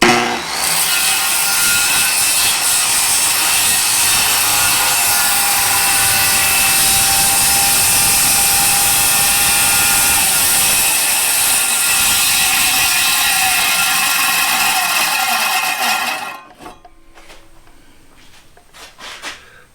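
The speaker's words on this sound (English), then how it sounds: "Now we won't be able to complete this without bringing in the jigsaw." A jigsaw makes an angled plunge cut through wood with its blade guard held back, a loud, steady buzzing rasp running continuously for about sixteen seconds before stopping abruptly, leaving quiet shop noise.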